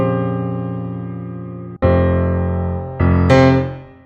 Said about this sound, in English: I started off this project by taking a piano,